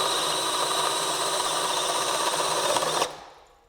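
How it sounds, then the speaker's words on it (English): A DeWalt cordless drill with a spade bit whines at a steady high pitch for about three seconds, then its anti-rotation system cuts it out abruptly and it spins down to quiet. "That's the drill cutting out."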